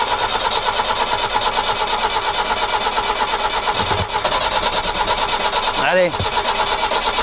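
An old 1990 Iveco Daily 35-8 diesel engine cranks loudly and rhythmically as it struggles to start, with a brief starter whine near the end and a voice speaking once.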